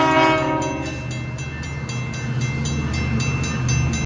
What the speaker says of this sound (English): It may seem like just a normal SD70, but listen to its horn.